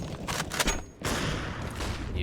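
Gunshots in an esports video game match, several sharp bursts of gunfire and thuds, the first ones broken by a short gap, all heard under a commentator's speech.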